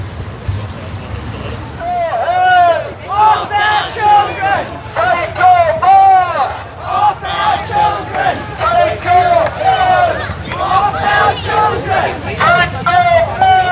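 Large crowd of protest marchers on a town main street in Rangiora, New Zealand, chanting and shouting in loud, rhythmic waves of massed voices, close by and continuous.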